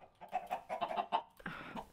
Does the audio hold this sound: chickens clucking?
yes